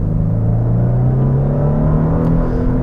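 Genesis G80 luxury sedan accelerating, heard from inside as a smooth steady engine drone rising gradually in pitch under a constant low road rumble.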